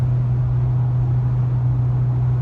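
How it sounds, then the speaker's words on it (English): Federal 595 RS-RR performance tires roar steadily on the road while driving, a loud continuous low drone with a strong low hum and no break. "It's just the roar of these tires."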